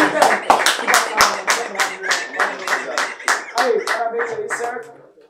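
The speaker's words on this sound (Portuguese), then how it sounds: "uma salva de palmas pro seu moleque aqui" Crowd at a Brazilian freestyle rap battle breaks into steady rhythmic clapping, a dense, fairly loud burst of hands that runs about five seconds before fading out at the end.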